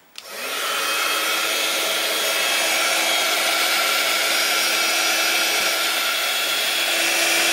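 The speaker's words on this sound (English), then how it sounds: "I'll dry it off and see what happens. I'll get my heat gun." A heat gun starts up and then blows with a loud, steady whirring roar and an even hum while it dries a homemade Glimmer Mist spray, running continuously with no talk.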